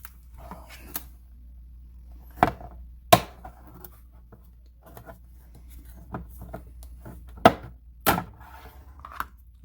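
A blade cuts through tough medallion material in a few sharp, separate slicing strokes, each a brief close scrape with quiet gaps between them.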